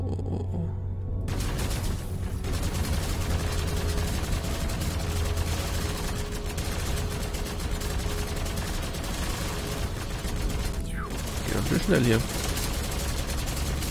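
Spaceship weapons in the video game Avorion fire continuously in a dense, rapid barrage, while someone speaks briefly over the shooting.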